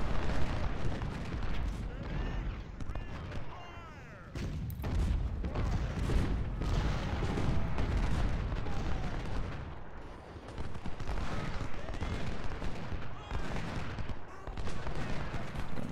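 Continuous Civil War battle din from Ultimate General: Civil War, with crackling musket fire and deep artillery booms layered thickly and steadily, plus occasional talk over it.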